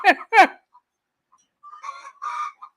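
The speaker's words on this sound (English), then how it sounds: "the clicking and the clack and the cluckery going on over there" Hens cluck in a backyard setting, with two sharp, loud close calls at the start, a pause, then softer, drawn-out clucking and chattering a little farther off.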